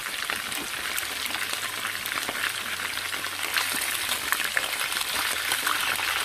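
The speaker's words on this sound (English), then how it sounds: "I'm going to flip it to the other side and fry the other side" Chicken pieces frying in hot oil after being turned over, a steady dense crackle that runs evenly and close throughout with no voices.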